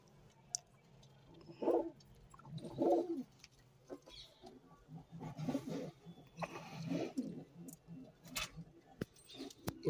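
Madrasi pigeons coo in low, throaty bursts, several calls spaced across the recording, close by, with faint chirps and soft background rustle.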